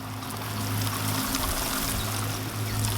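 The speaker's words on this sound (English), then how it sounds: "So water them in now" Water poured steadily over newly planted leeks in an allotment polytunnel, a continuous close trickling and splashing lasting the whole stretch with no voices.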